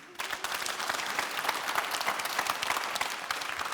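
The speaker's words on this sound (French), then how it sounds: "On peut l'applaudir." A studio audience at a golf instruction show breaks into applause, a dense, steady burst of many hands clapping close by that holds for several seconds with no talk over it.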